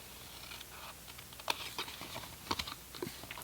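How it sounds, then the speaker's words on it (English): Faint, sparse snips and crisp paper rustles from cutting paper for a Ferrero treat box, a few sharp cuts standing out against quiet room tone. "I'm going to cut straight down on both sides."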